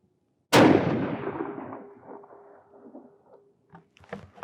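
One sharp, loud rifle shot from a .308 Winchester during load testing at an outdoor range, followed by a long decaying echo and scattered small handling noises.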